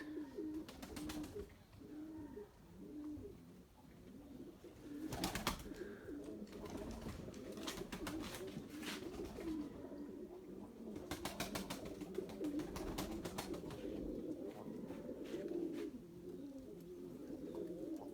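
A young white pigeon in an agitated state coos repeatedly in low throaty phrases, close by, interspersed with wing flutters and rustling over a quiet background.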